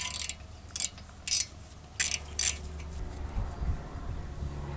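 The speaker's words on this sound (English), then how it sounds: "This is a 17mm socket, and I'm just using a longer handled socket wrench to break this loose." A long-handled socket wrench with a 17mm socket works loose an outer tie rod end nut on a 2001 Toyota Avalon, making several short, sharp ratcheting clicks in quick bursts, then low clunks as the nut breaks free.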